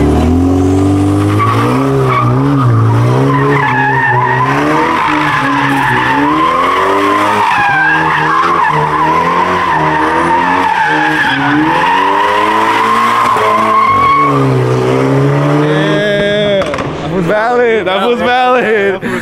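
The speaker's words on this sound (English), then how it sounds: "I haven't heard an M3 sound that nice before." A BMW M3 revs hard and skids with sustained tire squeal for about twenty seconds, its engine note rising and falling as it drifts, close and loud, while people talk and shout excitedly over it.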